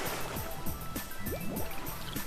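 Underwater bubbling and gurgling follow a dive into water in Ty the Tasmanian Tiger, a continuous liquid burble with rising bubble sweeps, moderately loud and close, heard alone.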